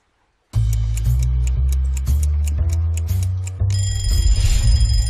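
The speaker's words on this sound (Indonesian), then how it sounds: "Setiap pagi mungkin kita bangun karena dengar suara alarm di HP kita." A phone alarm rings in the morning, bright repeating electronic tones that start abruptly after a moment of silence and keep cycling loud and close, shifting to a higher pattern near the end.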